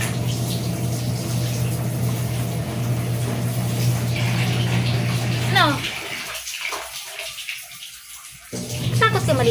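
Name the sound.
water running while bathing a cat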